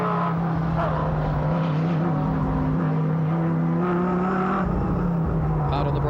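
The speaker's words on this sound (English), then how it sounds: "Let's listen to the awesome sound of this V10 8-litre." A V10 8-litre Chrysler Viper race car with a six-speed Hollinger sequential gearbox roars continuously at Sandown, a loud, steady engine drone that holds for several seconds with a slight shift partway.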